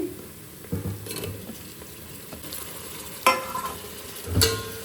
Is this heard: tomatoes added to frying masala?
yes